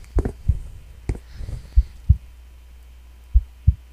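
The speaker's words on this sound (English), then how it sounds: "I hear a heartbeat." A heartbeat from the horror game Which thumps in low, close double beats, irregularly spaced pairs of dull pulses over a faint background hum.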